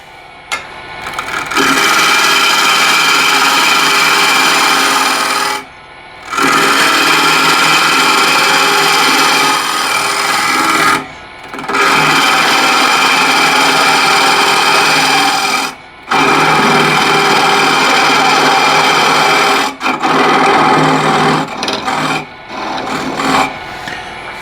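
A wood lathe turns a bowl while a bowl gouge cuts in long, loud, steady rasping passes, broken by three or four brief pauses, with no talk.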